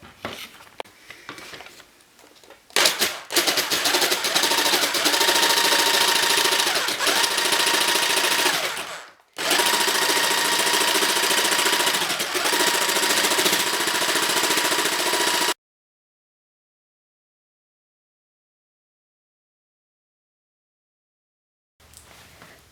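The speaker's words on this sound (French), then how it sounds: "Donc maintenant vous n'avez plus qu'à scier" A saw cuts plywood and a wooden board into a slingshot shape with a loud, steady buzzing drone. It breaks briefly partway through, resumes, then stops into silence.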